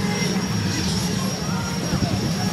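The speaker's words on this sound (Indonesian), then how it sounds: "Karena helikopter lagi atraksi dan dua pesawat sudah mendarat tadi." Indonesian Air Force Puma helicopter flying overhead during an air display, a steady loud rotor and engine roar with crowd murmur beneath it.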